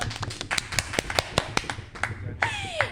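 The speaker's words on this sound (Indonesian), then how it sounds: "Tepuk tangannya dong." A few podcast guests clap in a short burst of sharp, distinct hand claps at an uneven rhythm, close by in a small room, with talking mixed in and a faint whistle-like tone near the end.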